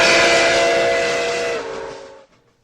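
A toy train whistle blows loud and steady close by, holding one chord before fading out and cutting off near the end.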